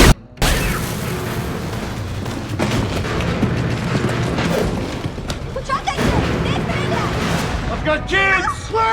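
A dense, continuous din of booming blasts and gunfire fills the whole stretch as a breaching charge blows through a wall, with voices shouting through the chaos near the end.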